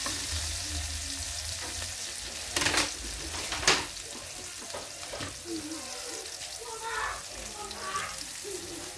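Garlic and onion sizzle steadily in hot oil in a pan, a continuous frying hiss with stirring clatter and a couple of sharper scrapes, while a voice talks now and then over the cooking.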